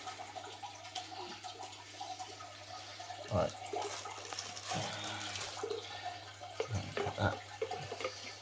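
Parrot fish netted out of water and moved into a hatchery, with soft sloshing and a few louder splashes and drips over a low steady hum from aquarium equipment.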